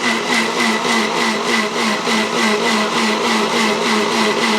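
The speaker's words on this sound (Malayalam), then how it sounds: "ഇത്രയും സാധനങ്ങൾ നല്ലപോലെ അരയാൻ വേണ്ടി സ്വല്പം വെള്ളവും കൂടെ ചേർത്ത് നമുക്ക് അരച്ചെടുക്കാം" Coconut, cumin and garlic with a little water churning in an electric mixer grinder, a steady loud whirring drone with a pulsing rhythm running throughout, close up and without talk.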